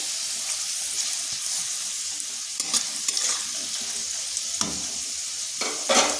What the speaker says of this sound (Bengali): আলুটাকে এইভাবে নেড়ে চেড়ে লাল লাল করে ভেজে নিয়েছি।